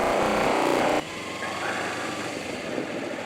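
A motorbike engine runs steadily as the rider circles around, a buzzing mid-pitched drone that drops in intensity after the first second and then holds at a moderate level, with no talk.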